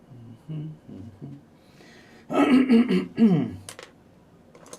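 A person talks briefly, then coughs and clears the throat in a couple of harsh, close bursts.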